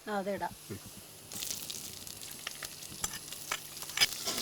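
A brief voice at the start, then crackling, spitting sizzle as chopped ginger fries in oil, moderately loud with sharp pops.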